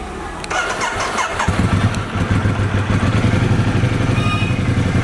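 A Ducati motorcycle engine starts after sitting unused for a long time, cranking briefly before catching into a loud, steady, close-up rumbling idle that continues to the end.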